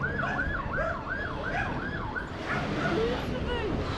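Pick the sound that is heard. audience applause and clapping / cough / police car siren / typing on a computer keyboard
police car siren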